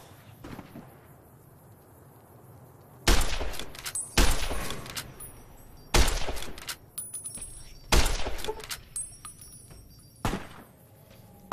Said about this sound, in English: Somebody's shooting somebody.